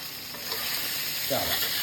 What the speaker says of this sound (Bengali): পনির ভাজাভাজি চলছে